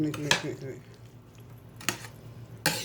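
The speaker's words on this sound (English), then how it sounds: "Get it all mixed up." A spoon scrapes and clinks against a bowl while ingredients are mixed for a Memorial Day cookout, three sharp knocks spaced across a soft stirring background.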